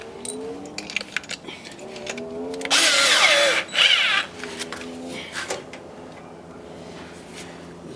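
A power drill widens a small pinhole during a battery install in the fender well of an MR2, whining in one loud burst of about a second, then a second short burst. Faint handling noises and low talk surround it.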